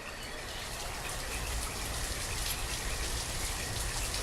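Steady rain falls in the video game Banished, a dense, even hiss of drops that holds at the same level throughout with no voices over it.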